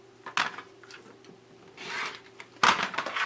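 Rotary cutter slicing through quilting fabric into 6.5 inch squares, heard as a few short scraping rasps with a louder cut near the end, close by with no talking.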